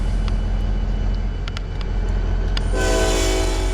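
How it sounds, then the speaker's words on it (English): Model railroad train on a lumber run, with a steady low rumble and then a loud horn blast entering near the end and holding over the running noise. "2 honks on the horn, and we're going to start on our way down the hill towards the sawmill."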